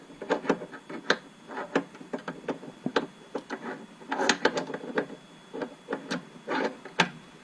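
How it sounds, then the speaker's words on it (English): Plastic and metal clicks, taps and rattles as a vise is fitted into a JMD compact CNC key cutting machine, irregular close handling knocks scattered across the whole stretch. "So we're going to insert the vise."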